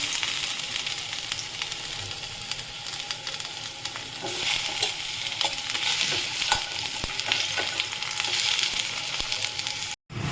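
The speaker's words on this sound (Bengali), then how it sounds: "তেলটা গরম হয়েছে এবার আমি আলুটাকে প্রথমে ভেজে তুলে নেব" Potato pieces fry in hot oil in a kitchen pan, giving a loud, continuous sizzle with occasional crackles and stirring noises throughout, with no talking.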